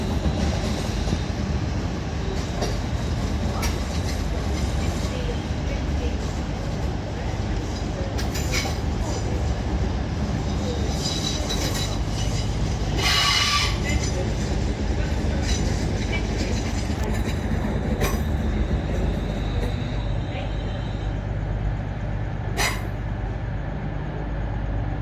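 A Class 360 electric train runs through London St Pancras station, a steady rumble with rail clatter and occasional squeals and clanks over a continuous background hum.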